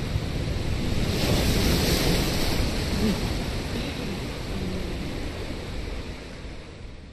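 Ocean water surging around a player in the underwater game BioShock, a loud, continuous roar of waves and rushing wind-like noise that stays steady throughout.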